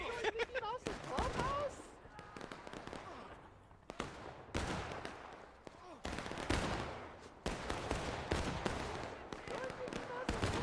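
Rapid pistol and rifle gunfire in a Civil War video game battle, sharp cracks in irregular bursts at moderate distance, with voices talking throughout.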